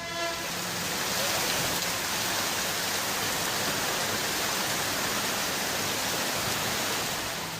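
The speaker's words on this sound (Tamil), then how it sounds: "பலத்த காற்றுடன் கூடிய கனமழை பெய்தது" Heavy rain driven by strong wind pours down in a dense, steady hiss that swells slightly at the start and holds loud and unbroken throughout, with no voices.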